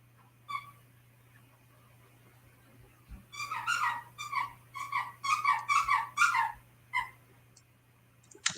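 A dog whines and whimpers indoors in a run of high, wavering cries that build to a close, insistent cluster before trailing off, over a low steady hum.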